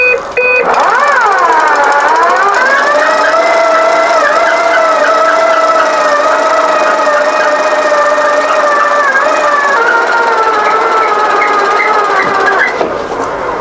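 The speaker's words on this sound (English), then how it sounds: "When we press the button to operate the system, there is a warning sound so that people have no hands around the winch." Warning tone from an electric push-button mainsail winch system on a sailing yacht, a loud, sustained wavering electronic whine that rises at the start, holds steady for about twelve seconds, then cuts off.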